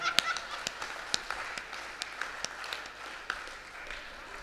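Faint scattered clapping from an audience at a Hindi poetry recital in Lucknow, thin and uneven, with isolated sharp claps over a low background murmur.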